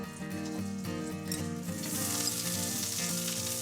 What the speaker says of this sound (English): My skillet is nice and hot. I'm gonna add 2 tablespoons of unsalted butter.